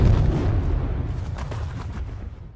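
A deep explosive boom from blasting in a monster film, loud and close at the start, then rolling and fading into a long rumbling decay with scattered debris crackle.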